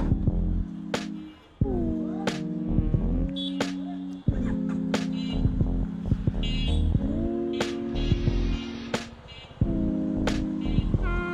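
A CFMoto NK 250 motorcycle on a test ride after its first service, checked for a reported abnormal sound, with a close engine whose revs repeatedly rise and then drop between gear changes.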